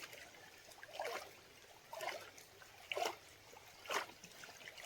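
Water swirls and sloshes in a gold pan in four quiet, evenly spaced surges about a second apart, faint and close with no talking.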